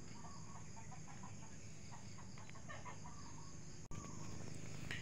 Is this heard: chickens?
yes